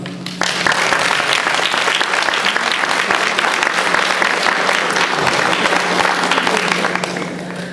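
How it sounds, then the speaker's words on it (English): Loud, sustained applause at a comedy show, a full crowd clapping densely for nearly eight seconds over a faint steady hum, then easing slightly at the close. "Give him a big round of applause, huh?"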